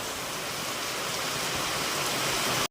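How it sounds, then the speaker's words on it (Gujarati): Heavy rain pouring down in a steady, dense hiss close by, unbroken and loud for the whole stretch before cutting off abruptly. "જોઈ લો જોરદાર નો વરસાદ આજનો"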